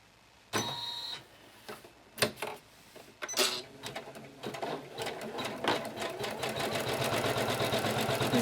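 A sewing machine stitching embroidery through fabric over thin batting, starting with short separate bursts of stitching that build into a fast, continuous whirring run, close up.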